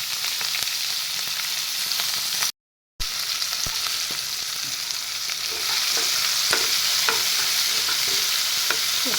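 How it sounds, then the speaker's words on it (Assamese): Sliced onions and green chillies fry in oil in a pan, a continuous loud sizzle with occasional clinks of a stirring spoon and one brief gap of silence. "সেই তেলখিনিতে মই পিঁয়াজখিনি আৰু জলকীয়া কেইটা দি লওঁ"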